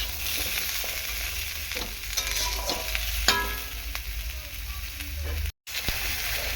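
Drumstick, pumpkin and potato pieces fry lightly in oil, giving a continuous close sizzle with a low hum underneath and a few clicking stirs and scrapes of a spatula against the pan.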